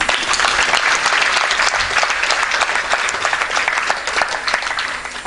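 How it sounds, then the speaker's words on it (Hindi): Audience applause at a talk on responsibility, a dense steady wash of many hands clapping close and loud for several seconds, with no voices over it. "ये एक्चुअली ताली बजाने का टाइम था।"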